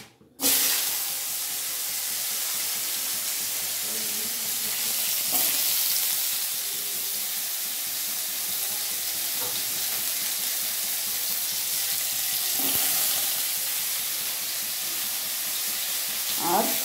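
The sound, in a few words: radish frying in a pan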